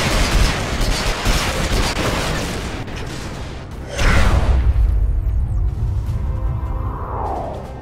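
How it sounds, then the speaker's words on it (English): A Reaver gunship in PlanetSide 2 fires air-to-ground rockets in rapid, loud bursts of launches and impacts, followed by a heavy explosion and a lingering rumble with a descending whine. "Reaver gunship, which I've spec'd out with some air-to-ground rockets to allow it to do a really good job of being an anti-tank vehicle"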